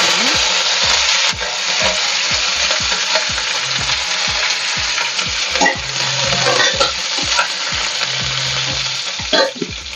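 Curry leaves and sliced onions sizzle and fry steadily in hot oil with cumin seeds in a home kitchen pan, a dense continuous crackle with occasional scrapes and stirring knocks throughout.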